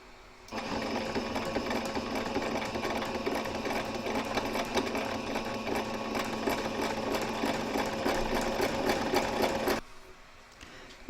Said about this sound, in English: we're going to stitch this, and we're just going to do a hair's width just inside the stitching